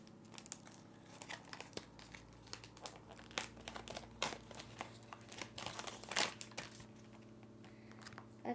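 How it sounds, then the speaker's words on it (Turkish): A plastic package is torn open by hand, crinkling and crackling in close, irregular bursts with sharp tearing snaps standing out against a steady low hum. "bu paketimiz işte buradan açılıyor"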